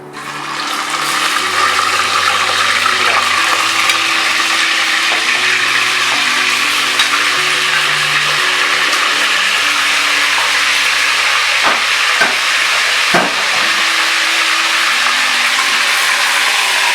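Meat frying in hot oil for a qorma, a loud, constant sizzle and hiss close up, with a few brief clinks of stirring near the end.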